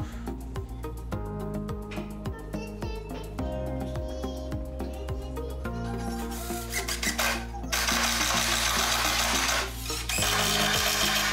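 Power drill driving screws into glued wood for a cordless drill storage build, a close whirring motor whine that rises and falls in pitch over repeated runs, turning to a harsher rasp toward the end.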